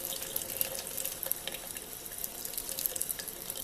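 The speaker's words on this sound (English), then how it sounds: "So when I'm rinsing the brush, you'll notice" Running tap water pours steadily into a sink while a paint brush is rinsed under it, a close, continuous hissing splash with no pauses and no voices.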